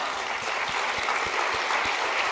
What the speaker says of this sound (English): Ladies and gentlemen, a round of applause for my panel.